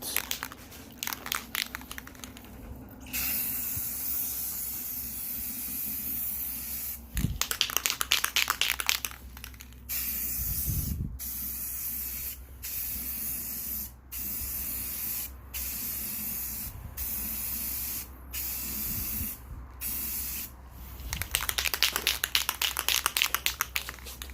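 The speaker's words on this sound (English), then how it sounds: "So let's do a test spray." Rust-Oleum spray paint hisses from an aerosol can in repeated bursts onto a car wheel with the tire protected, short sprays alternating with pauses and a few longer passes.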